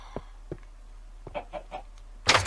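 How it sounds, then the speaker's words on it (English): A chicken clucking in the video game Minecraft: a string of short, close clucks and squawks in an uneven rhythm, ending with a louder, harsher squawk, alone with no talking. "Excuse me, Mr. Chicken"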